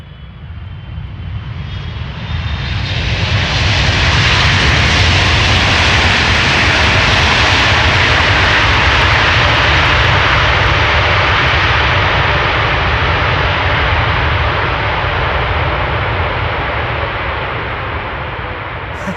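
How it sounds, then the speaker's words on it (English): Airliners landing at Amsterdam Schiphol Airport, a loud roaring jet engine rush that swells over a few seconds and holds steady and close for the rest of the stretch, with no voices. "Two loud airplanes back to back."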